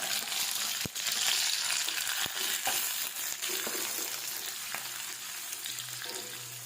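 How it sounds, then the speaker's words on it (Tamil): Steady, crackling sizzle of onions frying in hot oil, with a few clinks and stirring sounds over the constant hiss. "வெங்காயம் நல்லா வதங்கட்டும்"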